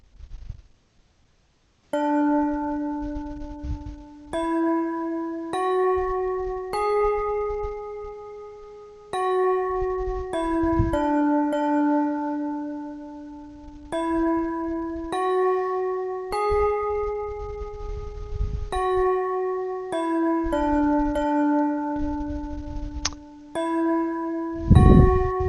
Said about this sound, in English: Just little bells or chimes.